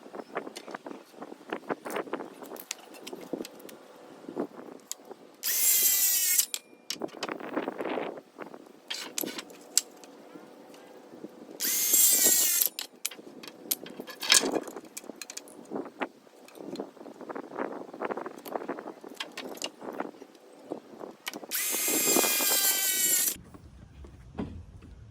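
A power tool cuts wooden legs for a backseat platform in a 2022+ Toyota Tundra, making three short, loud, harsh cutting bursts separated by quieter knocks and handling noises close by.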